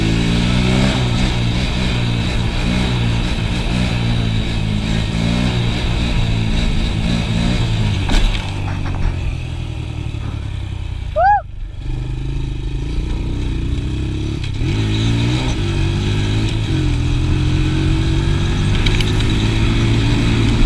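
An ATV engine revs hard through third gear during long wheelies, a loud, steady, close drone with rising and falling pitch that carries on for about twenty seconds, with a brief scrape near the middle.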